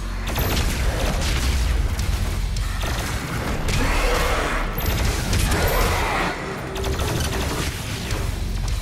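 Continuous rapid gunfire and heavy explosions in the first-person shooter game Doom Eternal, loud and dense throughout with booming impacts and mechanical clatter, no talking.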